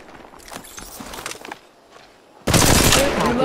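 Rapid automatic gunfire bursts from a weapon in the mobile battle-royale shooter Apex Legends Mobile, quieter shots and footsteps first, then a loud sustained volley of close firing that carries through to the end.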